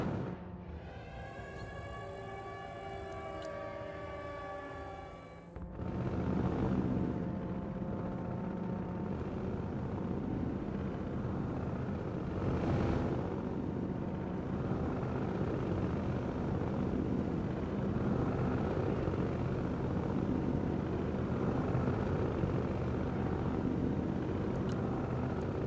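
Military helicopters in the video game Broken Arrow: a rising turbine whine gives way to a steady, heavy rotor drone that continues for the rest of the stretch.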